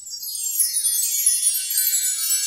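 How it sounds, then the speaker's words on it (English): A mark tree of solid metal rods is swept in percussion practice, giving a bright, high shimmering cascade that glides steadily down in pitch, sustained and clear with no talking. "is the wind chime or the mark tree."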